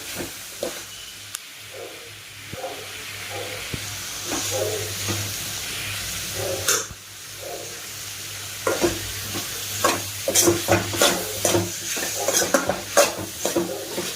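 Ivy gourd fry seasoned with garam masala is stirred in a pan, a spoon scraping in bursts over a steady sizzle, with sharper clinks of metal against the pan toward the end.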